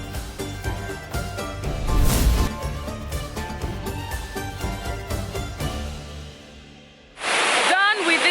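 Grotto waterfall at Obudu Mountain Resort, a broad, steady roar of falling water that comes in loud and close near the end, after a stretch of voices and background noise.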